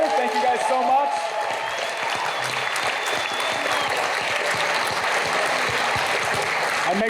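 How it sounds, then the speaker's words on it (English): Convention panel audience at Power-Con gives a sustained round of applause for the Mattel toy team, dense crowd clapping filling the room for several seconds, with a voice speaking over it. "let's give a nice round of applause to the Mattel team up here"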